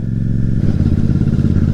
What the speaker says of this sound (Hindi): लेकिन मोटरसाइकिल धीरे चलानी पड़ेगी भाऊ